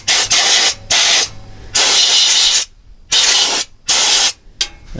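Fluid Film lanolin rust preventer sprayed from an aerosol can onto the backing plates and steering knuckle in a 2020 Ford F-150 wheel well: six loud, close hissing bursts of varying length separated by short pauses.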